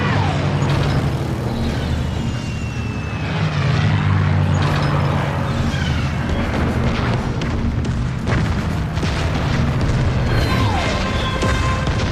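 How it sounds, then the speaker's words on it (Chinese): A loud propeller warplane roars overhead in a Korean War battle scene, its drone rising and falling over a rumbling, noisy background with occasional booming thuds. "有敌机！ 快迎兵！"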